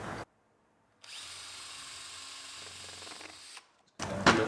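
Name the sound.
power drill drilling a hole in a spindle moulder jig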